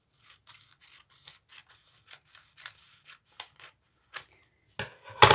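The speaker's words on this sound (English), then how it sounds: "I might want to cut the middle pages a little bit just to show you." Scissors trimming the paper pages of a handmade junk journal, a steady series of short crisp snips close by, growing louder and more rasping toward the end, with no talking.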